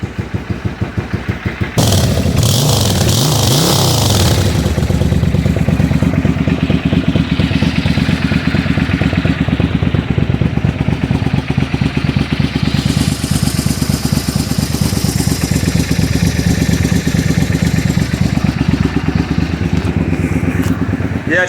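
Custom Suzuki Intruder bobber motorcycle engine firing up after a brief sputter, then idling loud and close with a steady, rapid rumbling pulse and some clatter throughout.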